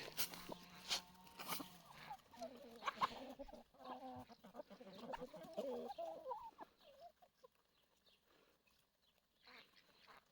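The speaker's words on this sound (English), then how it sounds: "Group of cockerels." Several cockerels clucking and squawking nearby in a busy cluster, loudest at first, then thinning out to quieter scattered calls.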